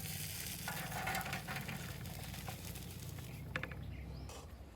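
Egg and bread sizzle steadily in a pan with a constant crackling hiss, close and fairly loud, and a few brief spoon stirs or scrapes come through near the end.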